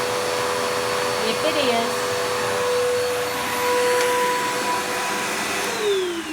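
A BGU1451T upright vacuum cleaner runs steadily with its brush spinning, a constant close motor whine and airflow hiss holding throughout with slight pitch shifts, while a voice speaks briefly over it.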